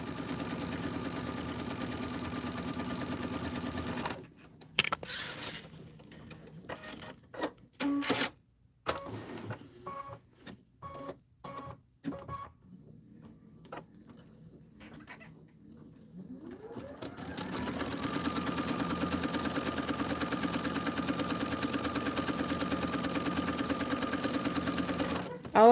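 Quilting sewing machine stitching an autumn border, its steady mechanical hum running loud at the start and end with a stretch of clicks and pauses between, while a person talks over it.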